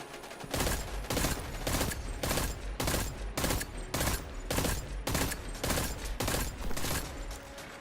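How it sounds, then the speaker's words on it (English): A pulse rifle in Destiny 2 fires in rapid, evenly spaced bursts, loud close gunshots repeating steadily for several seconds with no talking. "Pulse rifle with high caliber."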